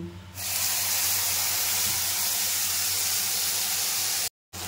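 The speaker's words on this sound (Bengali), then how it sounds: "সর্ষে পোস্তটা কাঁচা লঙ্কা যে মিক্সড করে বেটে রেখেছিলাম, একটু জিরেও দিয়েছিলাম, সেটা এখন দিয়ে দেব" Ground mustard, poppy seed, green chilli and cumin paste goes into hot oil and sets off a loud, dense spitting hiss that holds steady for about four seconds, broken by a brief silence near the end. No one speaks.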